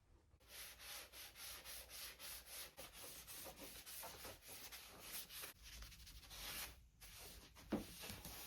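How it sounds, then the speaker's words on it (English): A car body surface is rubbed clean after sanitizer is applied, giving a steady series of soft, close swishing wipes in a repeating back-and-forth rhythm, quiet and without speech. "So the second the sanitizer applied, we're wiping it off."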